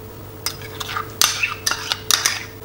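A spoon stirring cocoa powder, sugar and sour cream in a small saucepan, several close scraping clinks against the metal in an uneven rhythm over a quiet background hum.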